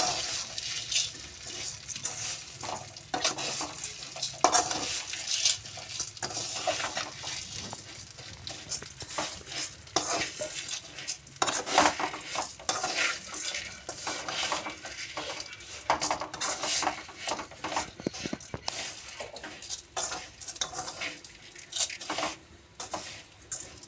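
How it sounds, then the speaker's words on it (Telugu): Vermicelli (semiya) being fried in oil in a home kitchen, with a spoon or spatula scraping and clinking against the pan in irregular bursts, close and fairly quiet throughout. "ఇది మంచిగా వేయించుకోవాలండి. నూనెలో బాగుంటుంది వేయించుకుంటే."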